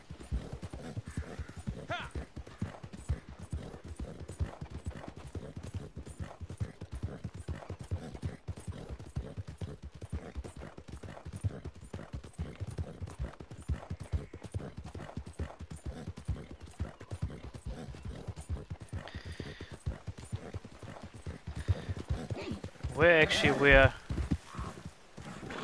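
Steady galloping hoofbeats of a horse in the video game Red Dead Redemption 2 Online, fast and regular from start to finish, with a short neigh and a louder burst of game noise near the end.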